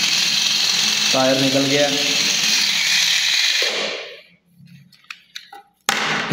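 A small electric motor drives a homemade gearbox with a steady high whine under a man's speech for about four seconds. The whine then cuts out, leaving near silence and a few light clicks.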